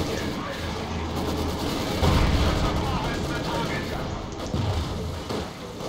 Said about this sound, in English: my flak cannon is shooting at them as well